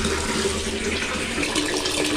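Water runs steadily from a household tap to fill drinking water, a continuous close splashing rush with no talk over it.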